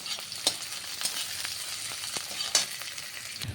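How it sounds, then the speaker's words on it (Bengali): Chopped onion and green chilli fry in hot oil in a pan, a steady close sizzle with occasional sharp crackles and stirring scrapes, and no talking. "এইগুলোকে আমি আবার লাল লাল করে ভালো করে ভেজে নেব।"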